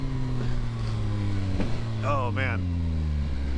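A 2022 Yamaha XSR900 motorcycle with a quick shifter accelerates, its engine droning steadily with slight shifts in pitch while the rider briefly exclaims over it.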